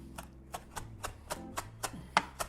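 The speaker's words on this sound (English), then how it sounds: "Chop this very finely. You can use regular parsley or Italian parsley." Fine chopping of parsley with a knife on a board gives a steady, evenly spaced series of about nine soft, close taps, fairly quiet and with no voices.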